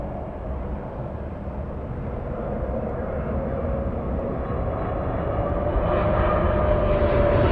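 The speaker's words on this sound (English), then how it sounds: "Air New Zealand 6, flying in from Auckland, this one arriving right on time." An Air New Zealand airliner arrives at LAX from Auckland, a moderate, steady engine rumble with a thin whine slowly growing louder as it nears.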